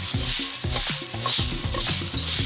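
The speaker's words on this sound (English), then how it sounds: "And this will be the stir fry for our chow mein." Vegetables for chow mein stir-fry in a wok, a loud close hiss that swells and fades as they are tossed, with low scraping and clanking of the utensil against the metal throughout.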